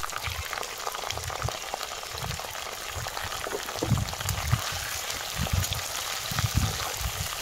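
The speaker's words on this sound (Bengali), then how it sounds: "তেলের ওপরে ভালোভাবে নেড়ে চেড়ে একটু ভেজে নেব" Spleen pieces added to oil with onions fried until reddish, a dense close bubbling sizzle with repeated low thuds of stirring spread across the clip, no speech.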